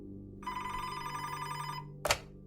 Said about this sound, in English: Just then, Montano's phone rang